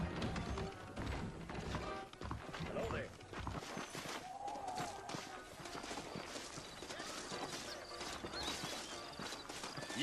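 Horse hooves clip-clop through a Western frontier scene in the Red Dead Redemption video game, a quick uneven patter of steps mixed with a brief whinny, ambient noise and character talk.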